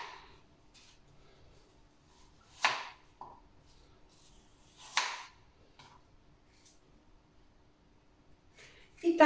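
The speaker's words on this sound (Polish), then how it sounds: "Teraz jabłuszka na pół ja robię, na ćwiarteczkę, wycinamy gniazdo nasienne i ja kroję w takie paseczki" Knife cutting apple quarters into strips on a board, a few sharp isolated chops spaced a couple of seconds apart, close and fairly quiet, with faint talk in the background.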